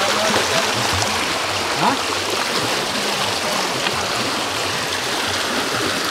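Stream of water flowing steadily over rocks outdoors in hilly country, a continuous close rushing wash with faint low rumble beneath, voices faintly present in the background.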